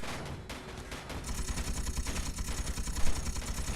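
Ship-mounted guns in Space Engineers fire in a fast, continuous stream of muffled bursts over a low engine rumble, moderately loud and with no voices.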